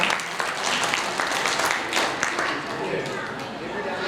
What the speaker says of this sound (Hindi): एक बार जोरदार ताली बजा दें आप।